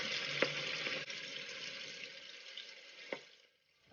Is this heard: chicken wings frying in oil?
yes